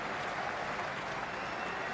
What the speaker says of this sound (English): standing and applauding a magnificent display of batting